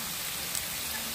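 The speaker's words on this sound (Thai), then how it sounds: "ฝนตกแล้ว" Rain falls in a steady soft hiss, fairly faint and continuous, with no voices over it.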